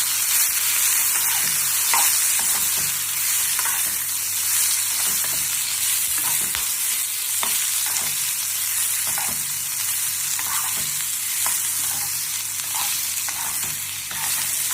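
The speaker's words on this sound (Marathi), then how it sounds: "थोडंसं छान त्याची भाजायचं." Bitter gourd and onion fry in a pan with a loud, steady sizzle that fills the whole stretch. Close stirring scrapes and taps come through now and then.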